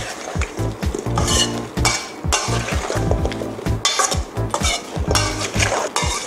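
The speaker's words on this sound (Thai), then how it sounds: "เราก็จะย้ายมาคลุกในอ่างผสมแบบนี้ค่ะ นี่ก็ผสมให้เข้ากันนะคะแต่ว่าจะต้องเบามือด้วยนะคะ" Papaya fruit salad gently tossed by hand in a mixing bowl with utensils, giving repeated soft clinks, scrapes and rustles in an uneven rhythm, loud and close, with no talk.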